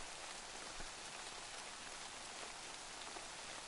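Steady rain pours in the DayZ video game, a dense even hiss of drops on surfaces that stays constant and fairly faint throughout, with no voices.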